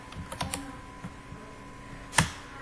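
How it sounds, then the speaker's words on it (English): Light keystrokes typed on a computer keyboard while filling in answers in an online form, a few scattered soft clicks followed by one louder clustered tap near the end, close and quiet with no talk. "You can type the answers."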